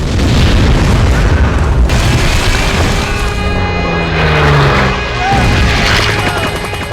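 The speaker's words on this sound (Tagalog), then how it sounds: "may isa pang malakas na pagsabog" A loud, sustained rumbling boom fills the clip, with a sharp impact partway through and a droning roar continuing underneath.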